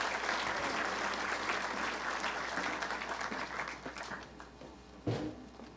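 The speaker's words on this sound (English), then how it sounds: "let's applaud everybody that was involved" Crowd applause at a city hall ribbon cutting in Richland, steady and full-bodied clapping that tapers slightly near the end, with a brief louder bump just after five seconds.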